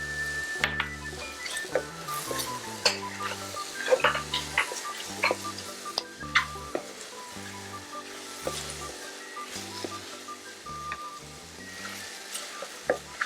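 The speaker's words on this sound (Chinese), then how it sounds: "除了洋葱跟香料，我们这时候就是先把它们都炒香。" Onions and spices stir-fry in a pan with a soft, continuous sizzle and scattered clicks of a utensil. Background music plays underneath, with no talking.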